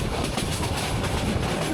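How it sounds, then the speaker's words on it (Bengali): The Tista Express passenger train runs on rails through forest near Gazipur, heard from inside as a loud, steady rumble with rhythmic clickety-clack of the wheels, continuous and close. "আমাদের ট্রেন তিস্তা এক্সপ্রেস এখন ভাওয়াল গাজীপুর জঙ্গলের ভিতরে আছে"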